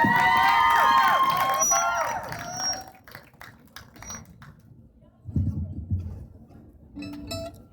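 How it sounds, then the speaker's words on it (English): An audience at a high school coffee house concert cheers and claps for a performer, loud whoops and applause at first that fade to scattered claps and murmurs, then a short renewed burst. "Big round of applause for Lauren Klepp."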